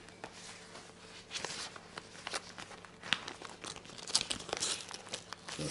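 A plastic bag being folded and sealed at Edithvale gives a steady close crinkling and crackling with sharper crunchy snaps throughout.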